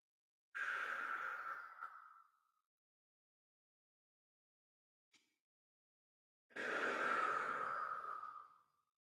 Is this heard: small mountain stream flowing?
no